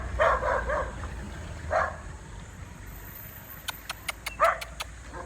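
A pet dog named Gong barks a few times in short bursts outdoors in the Philippines, with a quick series of sharp clicks or yips near the end over steady background hum.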